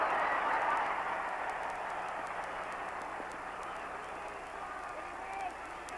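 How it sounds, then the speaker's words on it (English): Large arena crowd at a 1960 televised tag-team professional wrestling match, a steady broad roar of voices and cheering that fills the space, with a commentator talking over it throughout. "if you can hear me above the roar of this vast crowd tonight"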